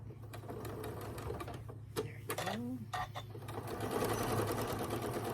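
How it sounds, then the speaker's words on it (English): A sewing machine stitches along a zipper pouch with the presser foot set against the zipper, its steady mechanical whirr running close and continuous over a low hum, with a few brief handling knocks. "I am going to start sewing here."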